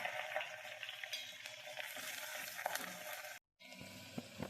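Tempering of dried red chillies, small onions and curry leaves frying in hot oil for tomato dal gives a steady, close crackling sizzle with stirring scrapes, cut by a brief silent gap near the end.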